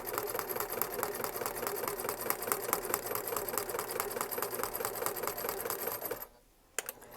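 A sewing machine stitches through felt on a greeting card, a steady rapid mechanical chatter that runs close and even for several seconds before stopping abruptly, with a single click after the stop.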